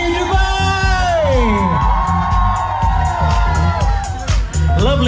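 A large crowd at the Dubai Run 2021 finish on Sheikh Zayed Road whoops and cheers loudly and without a break, with an announcer's amplified voice carrying over the noise.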